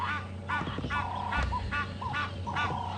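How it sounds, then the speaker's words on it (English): Several geese honk repeatedly in a steady, nasal chorus, fairly close, over a low outdoor rumble, heard from a safari drive in the African bush near water. "The geese are now starting to make a noise."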